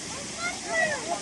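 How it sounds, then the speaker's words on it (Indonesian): Sopotnica waterfall in Serbia gives a steady rushing wash of falling water, moderately loud and continuous, with voices talking over it. "Oh, itu waterfall."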